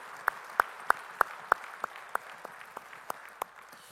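Rhythmic, evenly spaced claps ring out in a church service, a steady beat of about three per second that fades slightly toward the end in a quiet room.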